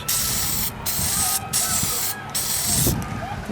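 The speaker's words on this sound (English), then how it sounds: "Now we will spray a second coat on this." A spray paint can hisses in several short bursts laying a second coat on a banjo clock dial, loud and close, with brief pauses between passes.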